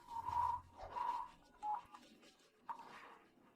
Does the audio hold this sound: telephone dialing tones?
yes